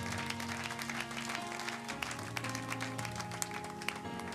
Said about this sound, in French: Est-ce que tu peux acclamer pour Jésus?